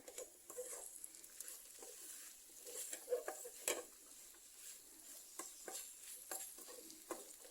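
A jackfruit seed stir-fry with black pepper is stirred in a pan, giving quiet, repeated scraping strokes over a soft sizzle, with no voices.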